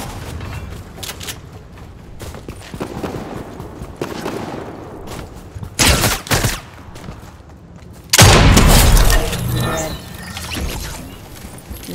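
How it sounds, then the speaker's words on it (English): Video game gunfire in a desert battle-royale match comes in scattered bursts and booms, loud and close at times, with game effects throughout. "I'm getting shot."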